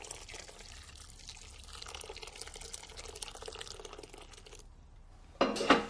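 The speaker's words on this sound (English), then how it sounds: "on top of this sunshine yellow mixture, I want just under a litre of water." Just under a litre of water poured into a pan over a sunshine yellow mixture for corn chowder, a steady close liquid rush followed by a brief louder splash at the end.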